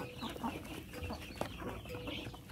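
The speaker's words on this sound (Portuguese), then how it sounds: "Ah, as galinhas." Farm chickens clucking softly in a coop or barn, scattered short clucks over a low, noisy background, fairly faint and distant.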